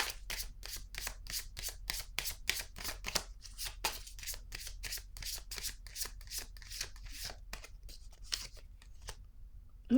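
Tarot cards are riffle-shuffled and drawn in a rapid, close train of crisp flicks and snaps that runs steadily throughout at low volume.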